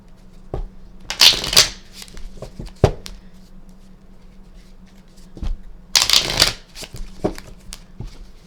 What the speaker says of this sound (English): Kind of giving a good shuffle again